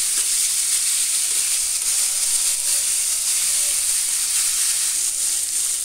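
Cauliflower sizzles and crackles steadily as it fries in hot oil, a continuous bright frying hiss with no one talking.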